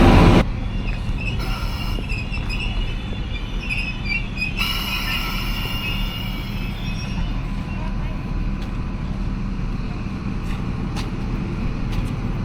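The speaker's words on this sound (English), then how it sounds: "here comes the train now" A passenger train pulls into the small country station at Macksville, a steady low rumble of wheels and rolling stock filling the scene with brief squeals and clatter on top, loud and close throughout, with no talking.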